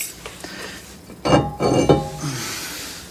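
An old rusty brake rotor from a 2010 Hyundai is handled, giving a few sharp metallic clinks and clanks close by in quick succession, then settling to quiet.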